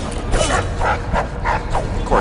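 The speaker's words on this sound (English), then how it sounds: "Of course, dogs." Dogs bark and yip in the video game Dishonored, several sharp barks in quick succession over a constant, noisy game soundscape.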